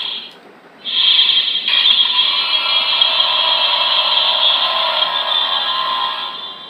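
Ultraman Tiga Spark Lens toy giving its electronic transformation sound effect: a short bright tone, a brief gap, then a loud sustained shimmering synthetic whoosh that holds steady for several seconds, close and alone.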